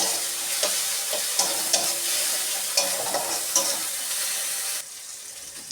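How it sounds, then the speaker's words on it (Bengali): Dried chili frying in oil before poppy seed and mustard paste goes in, a loud continuous sizzle punctuated by sharp scraping stir strokes, close up, easing off near the end with no talking. "এবার আমি একটু ভেজে নেব।"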